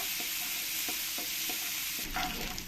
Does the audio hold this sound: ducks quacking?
no